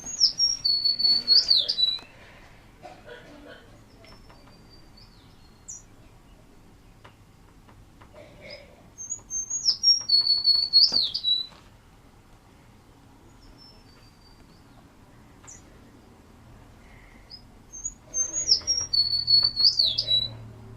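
A person imitates bird song, whistling three separate bursts of high chirps and trills with long quiet gaps between them over a low background hum.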